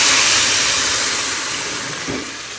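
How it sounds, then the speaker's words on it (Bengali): Water poured into a hot pan of fried buckwheat and potatoes, a loud continuous steaming hiss that slowly fades over a few seconds, with no talk. "এবার এর মধ্যে দিয়ে দেবো জল"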